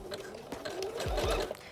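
A sewing machine stitching near the top edge of elastic on a bra-style top, a short quick run of rapid mechanical stitching under a soft voice.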